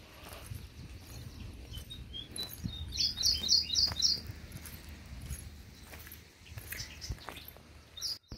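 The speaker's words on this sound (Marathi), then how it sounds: "चिमणीचा आवाज, तिकडून कावळ्या, म्हणजे पाऊस थोडा उघडल्यामुळे ना थोडेसे असे पक्षी बाहेर आलेले होते" Small birds such as sparrows chirp in a quick run of bright tweets, with a later faint call, over a quiet outdoor background after rain.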